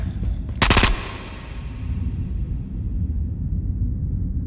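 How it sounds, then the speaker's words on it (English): A burst of automatic gunfire erupts in the video game Ghosts of Tabor, a sharp loud volley near the start that decays into a low rumbling ambience with faint distant shots. "You're hearing a lot of shooting"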